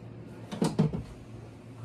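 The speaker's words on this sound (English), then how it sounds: "So we got a few drawers down below here" Drawer in the kitchen of a 2022 Jayco Jay Flight 242BHSW travel trailer slides shut with two quick wooden knocks and a short rattle, close and brief, over a quiet room hum.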